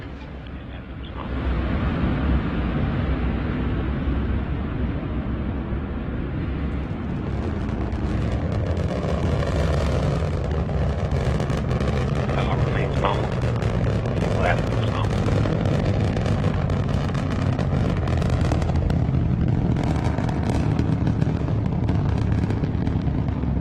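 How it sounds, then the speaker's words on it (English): An Antares rocket lifting off on Northrop Grumman's commercial resupply mission 19 to the International Space Station, a loud continuous roar that swells after a quiet start and stays thick and rumbling throughout. "Antares taking Northrop Grumman's commercial resupply mission 19 into orbit to the International Space Station."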